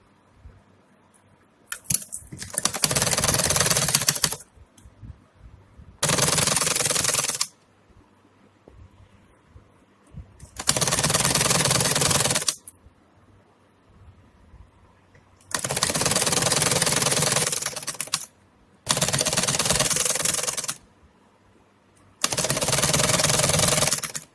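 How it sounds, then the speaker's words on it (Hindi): A sewing machine stitches lace onto a small dress, running in six loud, close bursts of rapid whirring separated by short quiet pauses. "लेस को दोनों तरफ से मैं सिलाई लगाऊंगी।"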